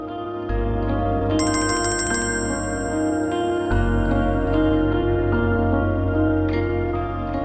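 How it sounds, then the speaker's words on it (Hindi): A phone's melodic ringtone plays loudly and steadily indoors, a repeating electronic tune with a brighter high tone layered in for a few seconds before it settles back to the ongoing ring. "फोन बज रहा है भाई"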